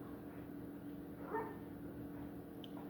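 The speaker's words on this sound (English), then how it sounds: "Chica's barking at a dog that walks by." A dog named Chica barks at a stray dog walking past, one short bark rising briefly over steady background hum and street noise at moderate distance.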